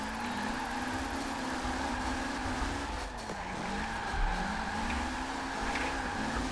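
Engines drone steadily from cars drifting sideways in a racing video game, a BMW among them, with pitch sweeping up and down and tires squealing continuously at a loud, close level.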